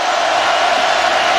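A dense, steady roar of a packed stadium crowd at a college football game between South Carolina and LSU, broadband cheering and applause held at a constant level throughout.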